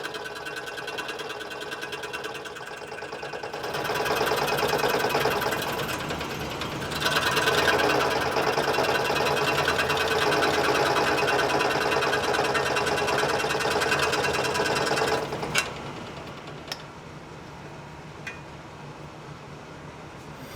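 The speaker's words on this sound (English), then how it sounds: "Then onto the scroll saw." A scroll saw cuts extremely hard wood at moderate blade speed with a slow feed, making a rapid, even mechanical chatter that runs steadily, swells louder midway, then stops, leaving a few sparse knocks.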